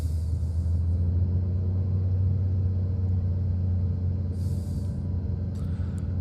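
A Trinidad TB21 single-engine piston aircraft in Microsoft Flight Simulator drones with a steady low engine hum from the cockpit, holding an even power level with a faint airy hiss above it.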